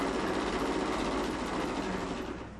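A hand-cranked Pathé 35mm motion picture camera from before 1914, set up in projector mode, whirs with a steady, dense mechanical clatter of gears and shutter, close and even throughout, easing off slightly at the end.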